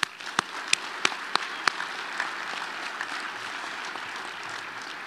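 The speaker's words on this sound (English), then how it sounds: "Round of applause for that one." Audience applause at a military change of command ceremony in Reno, Nevada, starting with a few sharp, separate claps before settling into a steady, moderate wash of clapping with no talk.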